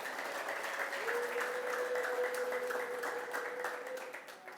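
Church congregation applauding during a sermon, a steady continuous wash of clapping at moderate distance with a sustained tone running beneath it.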